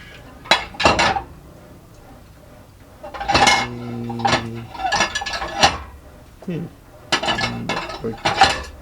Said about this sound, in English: all the dishwashing is on me